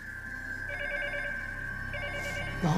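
Telephone ringing with no answer, a repeated electronic ring tone in regular bursts over a quiet room, with a brief louder noise at the end.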